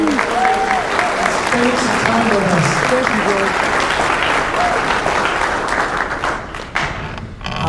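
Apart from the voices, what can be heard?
audience applause for the speaker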